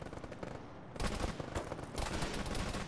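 Gunfire in the ShackTac military sim game: rapid overlapping bursts of automatic rifle and machine-gun fire, loud and continuous, with a brief lull before the volleys resume.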